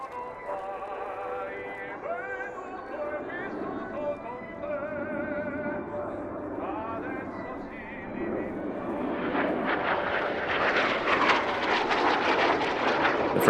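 Frecce Tricolori MB339 jets in an aerobatic display at a 2019 military airshow, a distant roar that builds into a louder broadband rush toward the end, beneath steady narration.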